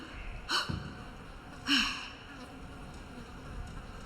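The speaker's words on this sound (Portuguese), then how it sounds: "Olha o barulho do mosquito." A mosquito buzzes in the survival horror game Resident Evil Requiem, with two brief whining swells rising and fading against a low, murky room ambience.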